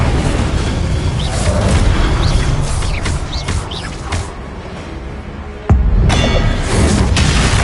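A fire spell cast in a Harry Potter video game bursts out as a loud, dense whoosh and boom, then fades into a steady rumble and flares up again with a sharp new blast near the end.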